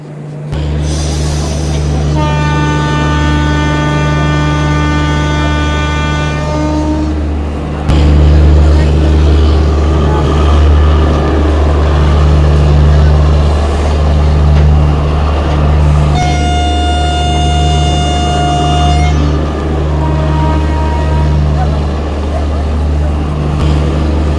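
A 22959 Intercity Superfast Express rumbles steadily along the rails with a loud continuous drone, while long sustained horn blasts sound twice, one early and one later, close and prominent over the running noise.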